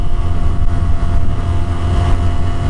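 A stock 2007–2012 BMW F800ST motorcycle engine holds steady around 5,000 RPM while riding in traffic, giving a loud, continuous buzzing drone up close.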